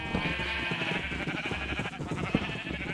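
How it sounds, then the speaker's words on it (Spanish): Sheep bleat repeatedly in the video game Minecraft, short nasal calls in quick succession over a faint background, moderately quiet and close. "Estas ovejas son unas pesadas."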